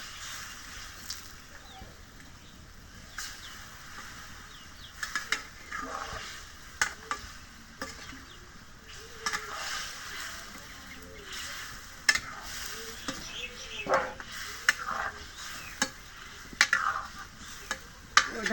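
Pangas fish frying in a pan of spiced masala, a soft steady sizzle broken by intermittent scrapes and clinks of a stirring spoon, quiet and close.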